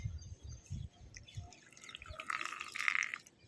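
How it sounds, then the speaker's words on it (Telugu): Cool water pours into a small glass with a soft, rising trickle. A few dull knocks come first, then a faint, steady splash. "వాటర్ అయితే ఫిల్ చేసేసాను."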